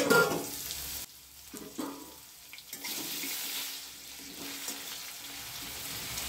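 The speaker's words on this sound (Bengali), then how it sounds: "একটু চাপা দিয়ে ভেজে নিচ্ছি।" Potatoes fry in oil in a covered pan, a soft continuous sizzle and crackle with a brief lull and faint clinks, moderately close and without voices.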